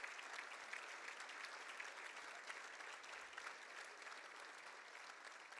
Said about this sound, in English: The applause continues